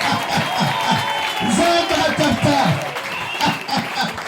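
A church congregation applauding together, dense continuous clapping mixed with scattered cheers and whoops for about four seconds, loud and close.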